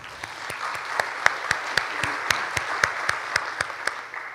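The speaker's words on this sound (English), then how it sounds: "Let's give them a round of applause." A school audience claps for introduced parents. Sharp, distinct individual claps over a soft bed of general applause, moderately near and fairly even, with a faint murmur of voices underneath.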